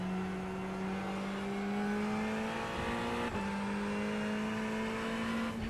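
Ferrari 488 GT3 Evo race car engine in a racing video game at the Hungaroring: a steady, loud droning engine note, rising slightly in pitch, with a brief shift-like dip midway and no talk.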